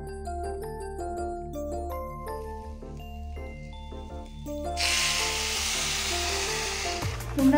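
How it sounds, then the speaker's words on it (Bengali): Rice fries in a pan for a Sunday lunch: music plays alone at first, then a loud, dense sizzling hiss bursts in about two-thirds through and holds steady to the end. "চালটা ভালো করে নেড়ে চেড়ে ভেজে নেব"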